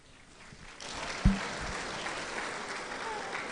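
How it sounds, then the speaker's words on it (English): An audience at a summer school event claps steadily after a talk, a sustained wash of applause starting softly, swelling after about a second, with one sharp thump near the microphone. "I think they deserve a much louder round of applause"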